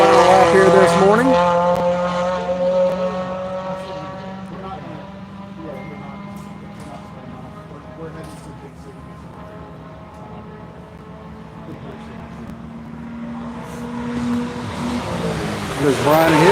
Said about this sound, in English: Here comes Shree in his Toyota 86. Beginning his third and final lap here this morning.